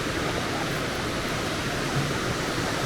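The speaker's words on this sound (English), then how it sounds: "So this is like the small waterfall area" Small waterfall in the town of Crystal Waters, a steady, even rush of falling water that fills the clip at moderate level with no pauses or voices.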